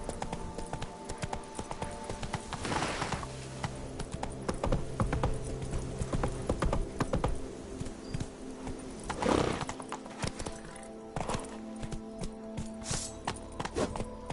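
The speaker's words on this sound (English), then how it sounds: "Whoa there, Roach." A horse's hooves clip-clop at a walking pace in The Witcher, with rhythmic hoofbeats, a couple of whinnies and a snort, and game music and ambience underneath.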